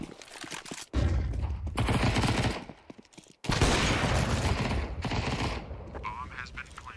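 Video game gunfire comes in two long, loud automatic bursts separated by a short gap, close and harsh, with speech in the background.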